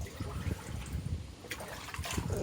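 Cycled water pours into a predator fish tank housing a pike and crayfish, giving a continuous, moderately loud gushing and splashing with a few brighter sloshes near the end, alone without talk.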